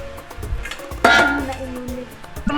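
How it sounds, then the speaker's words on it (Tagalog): Seasoned ground pork filling for Filipino lumpiang shanghai being mixed in a mixing bowl, close wet squelching and clattering against the bowl in uneven strokes, with a louder clunk partway through. "Ato na siyang i-mix diri sa atong mixing bowl."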